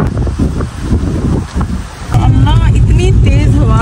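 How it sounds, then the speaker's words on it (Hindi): Strong wind buffets the microphone outdoors, a loud steady rush that rises sharply halfway through, with someone talking over it. "तेज हवा चल रही है"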